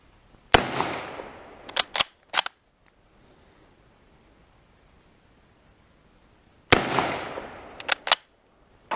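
A 1918-dated Rock Island 1903 rifle in .30-06 fires two loud, sharp shots about six seconds apart outdoors at a range, each followed by quick metallic bolt-action clacks and a fading echo.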